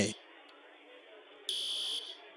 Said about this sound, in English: we have a fire alarm going off in our building here.